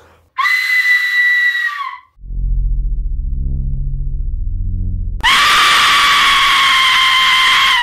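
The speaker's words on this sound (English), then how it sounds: "If you aren't familiar with an Aztec death whistle, let me familiarize you here with what this does." Piercing, scream-like shrieks from an Aztec death whistle, two long blasts separated by a low rumbling tone, harsh and very loud.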